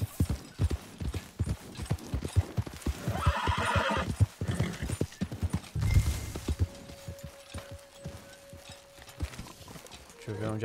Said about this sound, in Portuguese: Deixa eu ver onde é que a gente vai botar o cavalo.